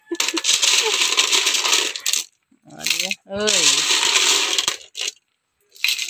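Balilit sea snails tumble into a cooking pot for ginataang gabi, clinking sharply like dropped coins in several close bursts, with short exclamations from a voice between them.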